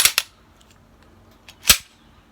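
Sharp metallic clicks and snaps of a Tisaş Zigana Sport pistol hammer falling on an empty chamber, a quick pair at first and then a single louder snap after a pause, crisp and close in a quiet room.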